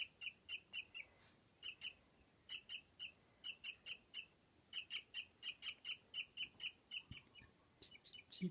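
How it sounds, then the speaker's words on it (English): A pet myna bird chirps indoors at a bird outside, giving a long run of sharp, evenly spaced high chirps in quick bursts, fairly faint and close, with no talking. "I think it's chirping at a bird outside."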